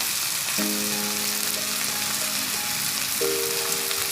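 Chinese-style chow mein noodles stir-fry in a hot pan with a steady, loud sizzle, while brief tonal clanks or hums rise under the frying now and then.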